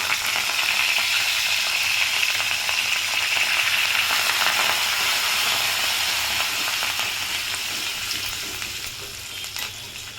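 Curry leaves and asafoetida frying in hot tempering oil for mango dal, a loud, steady crackling sizzle that holds throughout and eases slightly toward the end, with no talking.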